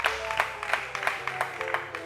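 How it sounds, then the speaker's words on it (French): An audience at a live show applauds for a partner, with a steady rhythm of many hands clapping throughout and a faint murmur of voices beneath. "On va, s'il vous plaît, applaudir pour notre partenaire"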